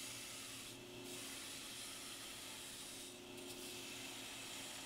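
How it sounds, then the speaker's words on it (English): A coarse abrasive belt on a belt grinder hisses continuously while grinding primary bevels into a canister Damascus steel blade made from 1080 powder with 2% nickel and mattress springs, loud and steady with two brief changes in contact. "then to put a fresher coarse belt on to do the initial primary bevels"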